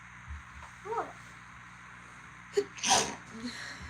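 A single sharp sneeze bursts out loud and close after a brief vocal sound, with faint room noise around it and a quiet murmur afterward.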